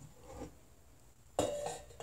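A mixer grinder jar handled in a home kitchen: a quiet stretch, then one solid clunk with a short hard rattle as it is set down, close by.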